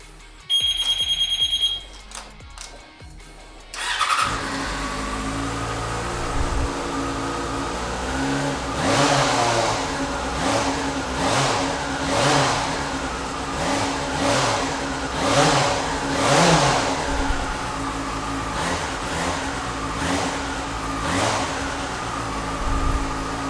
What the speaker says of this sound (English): Okay, let's start this up, listen to it run.